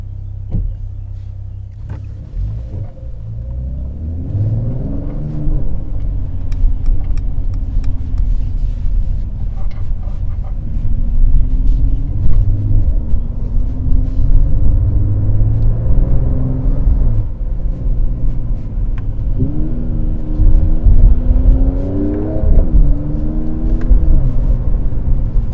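A 2021 Mercedes-AMG E53 Coupe engine rumbles steadily from inside the cabin, with exhaust valves open and repeated rising revs as it accelerates and shifts gears.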